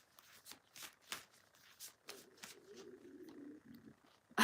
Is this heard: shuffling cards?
yes